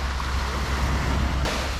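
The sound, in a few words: ocean waves at Busan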